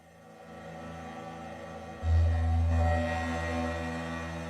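WaveStorm wavetable synthesizer playing a sustained tone through a delay effect, a steady layered drone that swells abruptly at about two seconds into a loud low note before easing back, with no talking.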